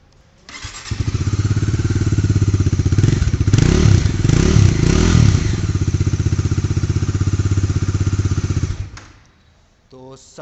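Bajaj Dominar 400 motorcycle with dual barrel exhaust starts up and idles with a loud, deep, bassy thump, revved a few times in the middle before settling, close to the mic and heard alone.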